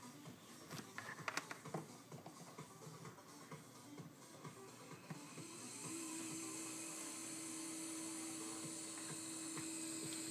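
Faceted mirror motor of a Raspberry Pi laser scanner spinning up after a few handling clicks and knocks, then holding a steady, fairly faint whine that continues alone to the end.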